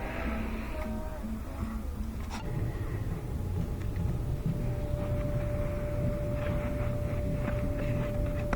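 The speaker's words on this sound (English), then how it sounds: "Alright, I'll turn on the dryer." A Duet gas clothes dryer clicks on and settles into a steady, droning hum with a faint whine, running continuously and close by.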